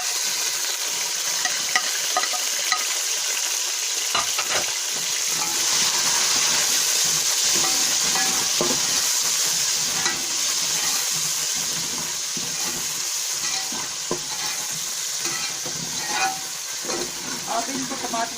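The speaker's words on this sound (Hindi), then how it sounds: "अब इनको टमाटरों को हम उतने तक भूनेंगे जितने तक टमाटर सही नरम नहीं हो जाते" Tomatoes frying in a pan with onion and ginger-garlic paste for aloo salan, with a steady broad sizzle and scraping spoon strokes throughout. Faint low sounds come and go underneath.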